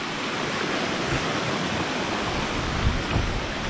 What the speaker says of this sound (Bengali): বস দেখো কি সুন্দর জলের ধারা নেমে আসছে ওখান থেকে।